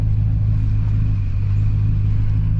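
A vehicle rolls along forest trails in northern Minnesota, a loud, low, steady engine rumble that holds constant throughout without any voices.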